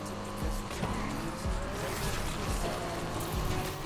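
A car in Need for Speed Unbound drifts during a police pursuit, its engine droning steadily while tires squeal and skid in repeated bursts, loud and close with no voices.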